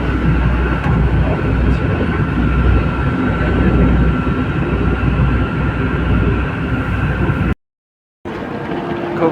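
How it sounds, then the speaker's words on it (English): Steady rumble and rattle heard from inside a moving train bound for Newport station, loud and continuous before a sudden brief dropout near the end. "We made it onto the train."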